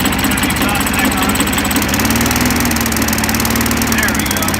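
A Geet-fitted lawn mower engine runs steadily at a smooth idle, loud and close, its continuous drone and exhaust rumble unbroken throughout with no pauses or revs.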